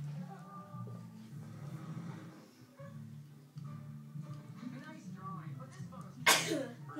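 A single sharp sneeze bursts out near the end, loud and close, after a stretch of quiet talking and background murmur.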